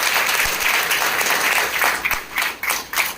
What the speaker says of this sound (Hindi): मुकेश कपूर सर, इनका जोर से हम लोग स्वागत करेंगे तालियां बजा के।